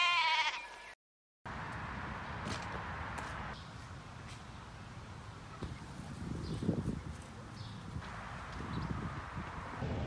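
Goats and sheep bleat repeatedly at a farm with horses and cows, the calls near and far over steady outdoor background, with hoof clip-clops and footsteps mixed in.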